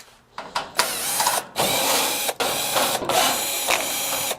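Power screwdriver removing screws from the back panel of a Frigidaire electric oven, model FFEF3043LSH: several loud bursts of whirring drive broken by brief pauses, close up and with no talking.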